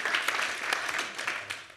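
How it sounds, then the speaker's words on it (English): An audience at a forum breaks into applause, a brief burst of distant, moderately faint clapping. "That certainly deserves applause."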